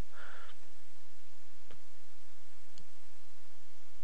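A computer mouse clicks twice in a quiet room, two sharp isolated ticks about a second apart over faint background hum.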